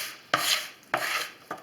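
Yogurt cake batter mixed in a bowl gives three distinct scraping strokes at a steady pace, close and fairly crisp, with no voice.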